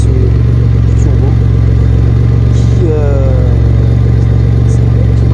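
A Maserati V6 turbo engine idles close by in a steady, loud, deep drone with a brief voice heard over it.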